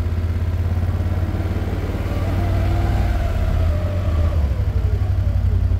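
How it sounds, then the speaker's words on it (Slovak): An ATV, a four-wheeler warmed up for a pre-sale service, idles steadily and loudly, with a constant low engine drone and a broad whirring rush from its radiator cooling fan running throughout, close by and without any talk. "Ako môžete počuť, zapol sa nám ventilátor, takže štvorkolka je zohriatá"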